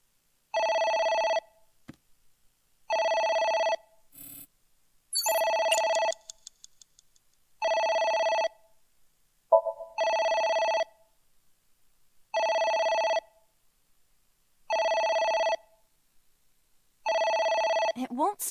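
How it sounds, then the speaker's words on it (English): A telephone rings repeatedly in the video game AI: The Somnium Files, regular electronic ring bursts with short pauses between, a few brief effects and voices in the gaps. "It won't stop ringing."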